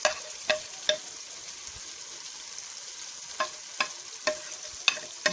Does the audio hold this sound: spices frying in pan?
yes